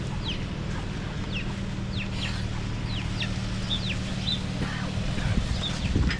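Chickens clucking and chirping in short repeated calls scattered over a low steady background rumble, moderately close with no talking.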